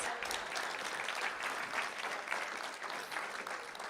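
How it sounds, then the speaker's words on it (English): Steady applause from an audience at a school board of trustees meeting, a dense continuous patter of many hands clapping at moderate distance for the full length, with no talking over it. "All right, let's give them a round of applause."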